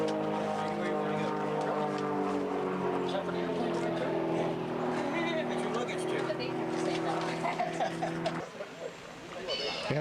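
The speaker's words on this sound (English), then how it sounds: "we became aware of the airplane noises from overhead" A propeller airplane flies overhead above a historical reenactment encampment, a steady, droning hum with layered engine tones that holds for several seconds and then drops away, with faint voices and camp noise around it.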